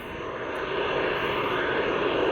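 A shortwave trading signal picked up during a band scan between 13 and 14 MHz, heard as a steady, wide, dense hiss-like roar that holds unbroken at an even, fairly loud level, with no speech.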